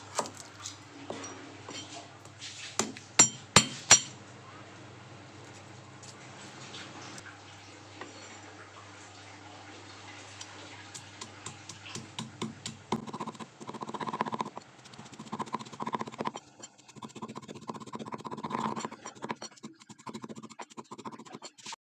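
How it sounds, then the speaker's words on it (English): Knife chopping garlic together with fish paste on a board, a soft, uneven series of close taps and scrapes that quickens into busier rhythmic chopping in the second half, with no talking. "Chopping garlic together with fish paste."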